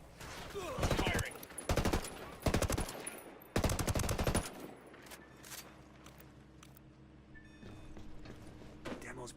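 Automatic gunfire in Ghost Recon Wildlands during a smuggling mission: several close, loud bursts with short gaps between them, then quieter mechanical and ambient game sounds as the shooting stops.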